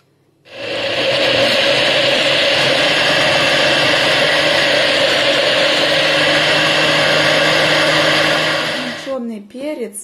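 A Moulinex smoothie blender runs loud and steady for about eight seconds, chopping tomatoes, bell peppers and hot peppers, then winds down as a voice starts at the end.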